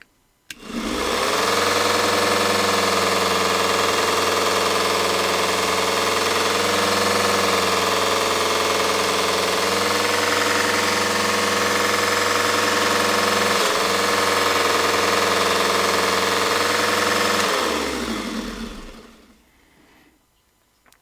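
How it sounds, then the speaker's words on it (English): A small mini belt sander grinder runs continuously as an old knife is held to its polishing pad, a loud, steady motor whine with belt rumble that starts abruptly, dips slightly under load at moments, then spins down and stops near the end. "I'm going to hit it on the polishing pad one time before we go to the outro"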